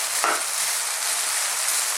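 Chicken and mushrooms sizzle and crackle hard in a hot wok for fried rice, a loud and close frying hiss that never lets up while the food is tossed around.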